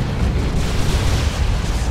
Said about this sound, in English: D-cannons getting shots on the mid, doing a big chunk of damage to that Looming Rust